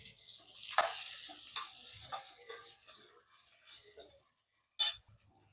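Tomatoes tossed into hot oil with peanuts for veg pulao, sizzling under steady stirring with a few sharp spoon scrapes and a brief loud clatter near the end.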